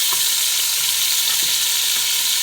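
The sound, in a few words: chicken pieces flipped and sizzling in pot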